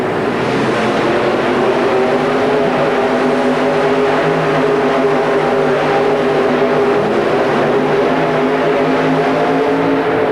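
A 4WD pulling truck at an indoor truck pull in the Pontiac Silverdome, 1991, roars loud and steady for the whole stretch, its engine held high with heavy wheel spin and a sustained droning tone.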